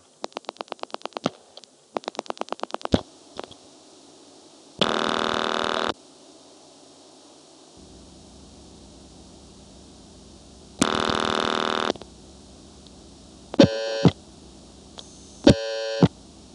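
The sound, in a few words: telephone number being dialed through old exchange switches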